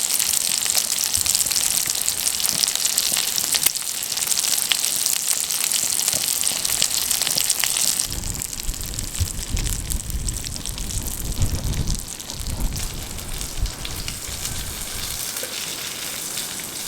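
Chicken frying in a hot pan at a cold, windy tent campsite in a storm sizzles loud and close in a continuous crackling hiss, the tone shifting partway through as the pieces settle or are moved.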